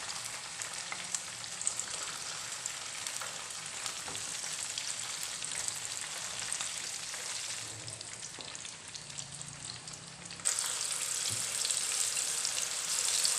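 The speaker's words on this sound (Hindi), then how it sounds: "अभी छोटी छोटी पीस में फ्राई कर रही हूँ।" Whole chicken frying in hot oil for biryani, a dense continuous sizzle close by that grows louder and brighter near the end.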